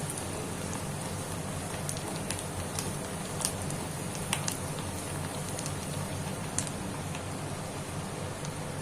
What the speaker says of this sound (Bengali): পেঁয়াজটা বেশ সুন্দর করে লাল করে ভাজতে হবে